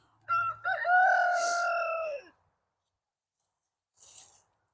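Farm chickens, with a rooster crowing loudly once nearby, followed after a pause by a short, fainter cluck.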